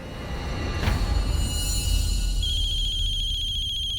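Telephone ringing in an indoor domestic scene, a steady electronic ring sounding continuously and fairly loud, with a low hum underneath and no talking.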